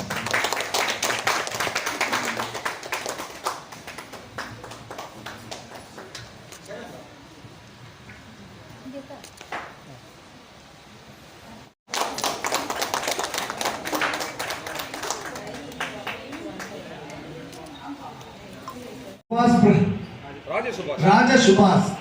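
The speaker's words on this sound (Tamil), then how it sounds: "Hey, claps." Crowd applause at a Honda showroom launch of a new vehicle in Chromepet, bursts of clapping that rise and fall across the stretch, mixed with voices talking and announcements over the gathering.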